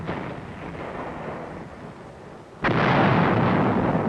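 US heavy artillery firing, a low rumbling background that suddenly erupts into a single sharp, powerful blast followed by a sustained roaring boom.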